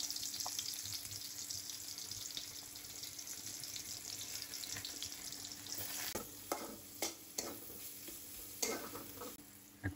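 Noodles cooking in a pot with oil added, giving a steady bubbling hiss with faint scraping stirs and a few sharper clatters toward the end; no one talks.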